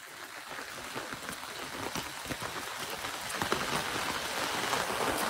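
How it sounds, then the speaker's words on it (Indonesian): Heavy rain pours steadily onto surfaces, a dense continuous hiss of drops that grows slightly louder toward the end, with no voices. "Wow, hujan lebat."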